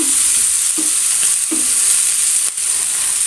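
Drumstick flower thoran is stirred in a pan for a Kerala-style dish, with a soft continuous sizzle beneath three or four spaced, close scraping strokes and a clack near the end, no voices present.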